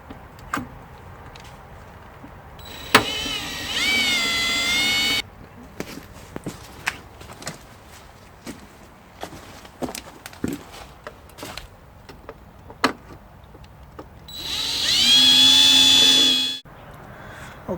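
An electric winch hoisting an Enphase 5P solar battery by a strap through its side lifting holes: two steady motor whirs of about two seconds each, the first near the start and the second near the end, with knocks and handling clatter between them.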